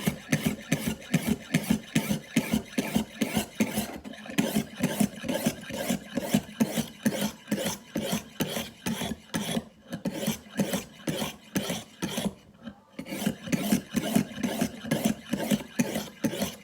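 A kitchen knife is sharpened with fast, rhythmic back-and-forth rasping strokes, close and steady throughout, with a couple of brief pauses and no talking.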